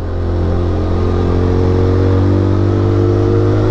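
Peugeot PM-01 motorcycle engine climbing the Mont Faron road, a steady, loud mid-pitched drone with a strong low hum that holds even throughout, heard close and alone with no talk.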